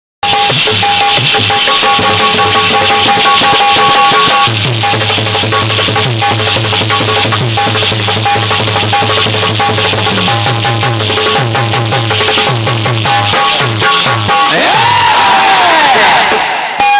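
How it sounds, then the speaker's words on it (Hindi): A large crowd at a live Hindi folk singing contest roars in loud, dense, continuous cheering and applause, with whoops rising through the din and a raised voice briefly cutting through near the end. "जोरदार तालियां।"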